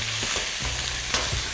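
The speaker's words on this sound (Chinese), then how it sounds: "这次呢下入肉片" Unmarinated pork belly slices hiss and crackle as they hit a preheated hot wok and start stir-frying. A short, close, continuous sizzle plays with no talking.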